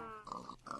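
Pigs grunting in the Minecraft video game, a few short nasal oinks in quick succession, faint and brief, with no talking.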